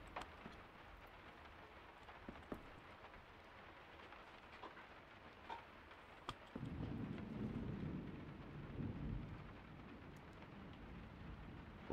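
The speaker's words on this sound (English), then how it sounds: "Come on, you can quit raining anytime now." Steady rain hisses through a stormy scene in the survival video game Miscreated, with a low rumble of thunder swelling partway through, all fairly faint and without talk.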